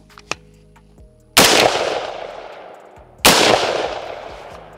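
Two loud unsuppressed gunshots from an AR pistol firing PMC 55 grain ammunition, each a sharp blast followed by a long decaying ring, about two seconds apart, after a small click.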